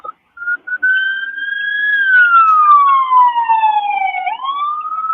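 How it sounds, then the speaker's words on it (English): A single clear wailing ambulance siren glides slowly down in pitch and then sweeps back up, loud and sustained against near silence. "that's the ambulance"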